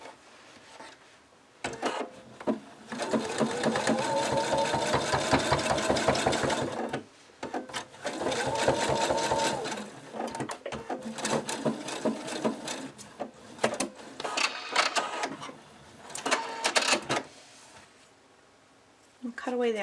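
A sewing machine stitches along the edges of plush fabric for a cockatiel toy, whirring in two long bursts and then in shorter stop-start runs, up close with handling noises between.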